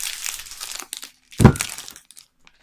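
Plastic packaging crinkles and rustles as it is pulled off a Cricut Maker 3 cutting machine, with close crackling bursts, one louder crunch in the middle, then trailing off into quiet.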